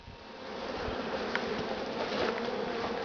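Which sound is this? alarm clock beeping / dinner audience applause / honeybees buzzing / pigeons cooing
honeybees buzzing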